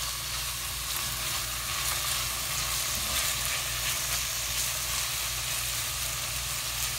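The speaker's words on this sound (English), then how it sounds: "While this is sauteing" Food sautes in a pan with salt, giving a steady, dense sizzle and crackle that stays even and close throughout, with no voices.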